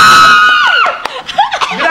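A crowd lets out a loud burst of screaming and cheering, with high shrieks and whoops piling on top of one another for a couple of seconds.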